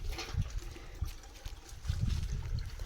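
Water runs from a hose pipe as a goat drinks, a soft, steady trickle with faint splashes nearby under low rumbling background noise.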